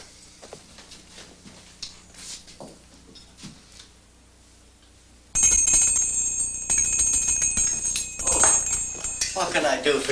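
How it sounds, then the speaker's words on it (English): A shop bell on the door of a rustic antique shop jingles as customers walk in. A quiet room with soft footsteps and movement gives way to a bright, sustained ringing, with people talking around it. "Sorry, I didn't mean to ring the bell."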